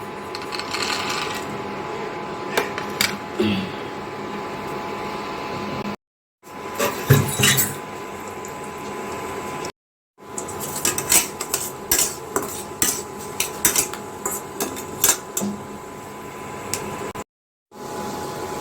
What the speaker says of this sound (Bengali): কাঁচা বাদামটাকে এখন আমি ভেজে নেব